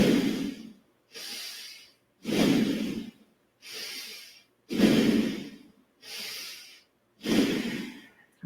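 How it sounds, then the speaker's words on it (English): Bhastrika bellows breathing in a yoga practice: five rapid, forceful breaths in an even rhythm, each a loud, close, rushing snort-like exhale with short quiet gaps between, heard alone with no talk. "5 bellows breaths."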